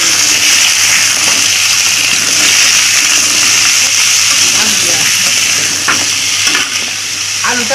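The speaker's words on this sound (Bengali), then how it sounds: "আলুটা একটু আর কি লাল লাল করে ভাজা হবে" Potatoes frying in hot oil in a home kitchen pan for a Bengali vegetarian pointed gourd dish, a loud steady sizzle with scraping strokes as the pieces are stirred, no talk over it.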